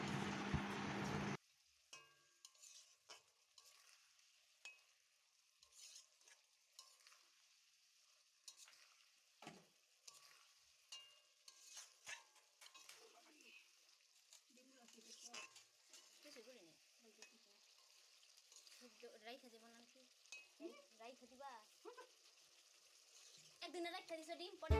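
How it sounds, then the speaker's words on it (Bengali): Ridge gourd, tomato and other vegetables being sautéed with spices in a pan for a fish curry, with soft sizzling, stirring and scraping clinks throughout, and a voice talking quietly in the latter half. "এবার কিন্তু আরও ভালোভাবে 2-1 মিনিট আমি ভালোভাবে সেই মশলার সাথে সবজিগুলোকে কষিয়ে নেব।"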